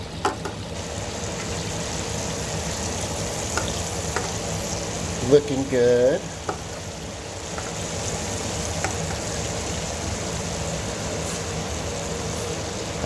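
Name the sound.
chicken frying in oil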